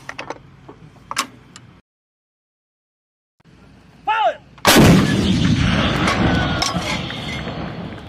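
Artillery guns fired by US Marines and Filipino troops in a field exercise: light metallic clinks and a short silence, then a massive close blast followed by a long, loud rumbling tail.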